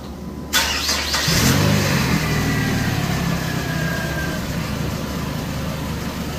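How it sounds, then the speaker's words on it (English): A Chrysler PT Cruiser engine cranks briefly after timing belt work, catches with a rising rev, then settles into a steady close idle that runs on alone. "Now I'm going to just hit start and start the car."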